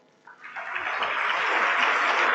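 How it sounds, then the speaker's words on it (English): Applause from an audience at a student event swells from quiet into a dense, steady wash of many hands clapping, growing louder and staying full to the end. "I urge you to extend a resounding round of applause"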